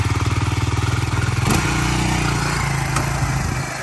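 Honda 300EX ATV engine revving hard in a clutch dump, loud and close, with rapid pulsing firing that climbs and then holds a high, steady buzzing drone.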